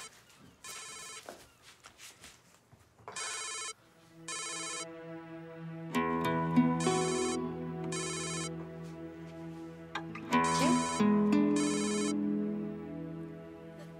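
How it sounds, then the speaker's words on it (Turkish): A phone ringtone repeats in a melodic electronic pattern, at first in short bursts, then sustained and louder, sounding alone in a quiet domestic room with faint movement. "Telefonu çalıyor."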